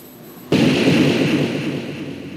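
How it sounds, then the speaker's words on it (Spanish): Gunfire in a crossfire scene from a Peruvian film: a sharp burst that cuts in after a short quiet lead-in, then a loud, broad rumble that rings on and slowly fades. "un disparo impacta en el cuerpo de Víctor"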